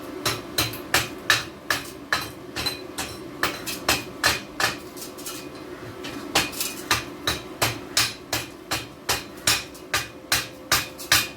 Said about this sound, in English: That's what you call a shipping hammer.